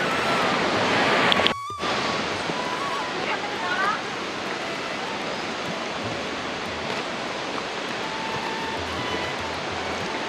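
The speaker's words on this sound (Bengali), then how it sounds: "ভিউটা অসাধারণ, পাহাড়ের মধ্যে থেকে ঝর্ণা।" A mountain waterfall pouring down through the hills near Lingtham, a broad, steady rushing roar filling the scene at close range, with a brief knock early on and faint background sounds.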